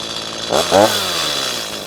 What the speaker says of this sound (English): how is Troy doing with the chainsaw?